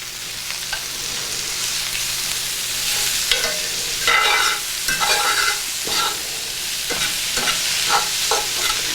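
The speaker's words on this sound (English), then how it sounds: "Scrape up all of that underneath. I'm gonna add a little bit of butter, so nothing will stick." Butter sizzles loudly in a hot pan while a utensil scrapes and stirs across the bottom, giving a constant frying hiss broken by repeated scraping strokes, close up and with no talking.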